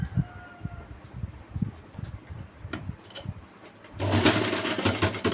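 A sewing machine stitches a pant bottom hem in a rapid run of ticking strokes, close and steady, then a louder, denser whirring burst near the end.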